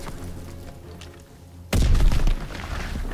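A grenade explodes in Call of Duty WWII, one sudden loud boom halfway through with a deep low rumble that tails off, after quieter game ambience.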